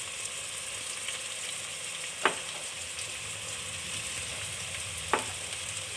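Onion, green chilli and curry leaves fry in oil in a pan, making a steady, moderately quiet sizzle, punctuated by two brief sharp pops and no talking.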